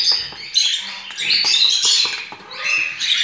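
Young cockatiel chicks in a cage giving high, raspy begging calls in short overlapping bursts, close and fairly loud, with faint rustling underneath.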